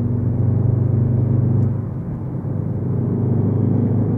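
A 2015 Audi TTS (8S) turbocharged engine pulls strongly while driving, giving a loud, steady low drone and rumble from inside the cabin that eases slightly midway, with no talk over it.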